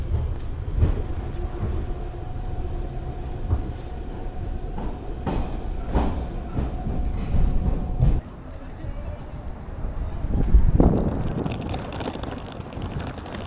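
Rumbling, rattling noise of a moving train in Germany or Denmark with clattering wheels and wind, heard from inside on a cold Friday night, with people talking faintly nearby.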